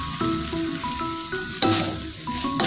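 A pastel filling thickened with cornstarch cooks in a pan, making a steady, close sizzle with repeated scraping stirs and a louder clatter near the middle, with no voices.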